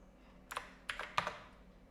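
A password being typed on a computer keyboard: a few quiet, close key clicks in short bursts, separated by brief pauses, with no talking.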